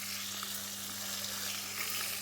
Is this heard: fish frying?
yes